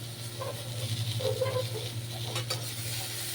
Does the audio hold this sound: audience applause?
no